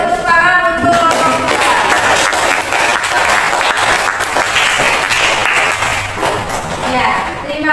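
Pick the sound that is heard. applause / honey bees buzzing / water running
applause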